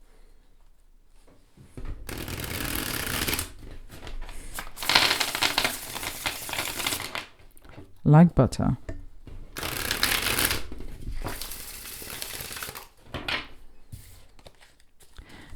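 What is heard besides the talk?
shuffling tarot cards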